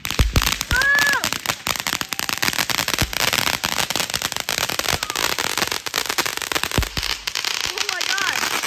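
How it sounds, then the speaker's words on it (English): Fourth of July fireworks and firecrackers burst in rapid crackling volleys, with several sharp louder bangs and whistling rises, while excited voices shout close by. "The last firework!"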